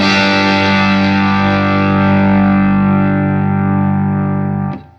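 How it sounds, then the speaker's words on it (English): An electric guitar with a humbucker, played through a Spaceman Saturn VI effects pedal into an amp, sounds a single heavily distorted, sustained chord that rings loud and full, then fades at the end. "Let's listen to a humbucker with this pedal and see how hard a humbucker can push the front of this amp with this pedal."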